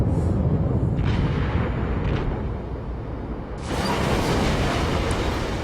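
Heavy naval gunfire and shell explosions in a warship video game featuring the battleship Wyoming, a dense rumbling roar with two dull booms followed by a louder, sustained blast near the end.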